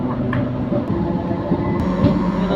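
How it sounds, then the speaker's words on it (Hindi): A Raxaul–Mehsi MEMU train pulls away from Dharminiya Halt station with a loud, close rumble. Rolling wheel noise and faint clanks run under it. "चलिए यहाँ से देखते हैं अपनी ट्रेन का डिपार्चर।"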